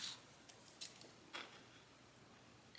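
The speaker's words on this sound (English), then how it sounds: "I'm going to try to just cut this pretty close." A few quiet, crisp scissor snips cut through paper, spaced irregularly, with near silence between them.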